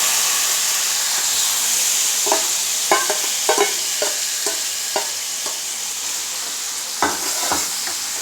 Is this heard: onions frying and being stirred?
yes